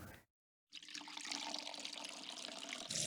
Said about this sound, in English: You're pouring scalding hot tea all over me.